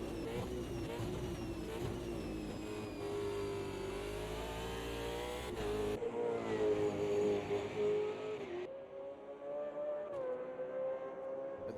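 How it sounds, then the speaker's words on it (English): Video game racing car engines in a simulated Bathurst 1000 race whine and rev steadily with shifting pitch, a continuous mechanical drone, changing abruptly partway through. "these cars sound good on track"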